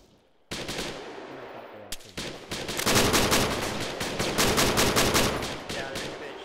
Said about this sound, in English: we're taking fire up the hill